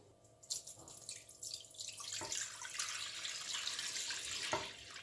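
Milk poured into a wok for Indian rice pudding (firni), a soft liquid stream splashing and trickling into the metal pan, close and fairly quiet, with a few small clinks.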